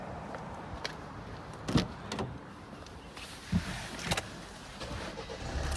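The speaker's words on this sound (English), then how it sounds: "Just turning the car on there, so it's just doing its standard startup procedure" A car being switched on and running its standard startup procedure, with faint clicks and a few soft mechanical thumps over a quiet, steady background hum, no voices.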